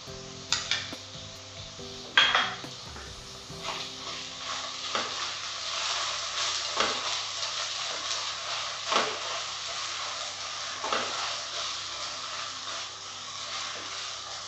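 Sabudana (sago pearls) frying in ghee for barfi, a continuous sizzle broken by repeated spoon strokes and pressing scrapes against the pan at a steady pace, fairly close and with no voices.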